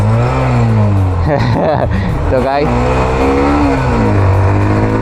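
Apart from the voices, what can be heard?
Hero Xtreme 125R motorcycle accelerating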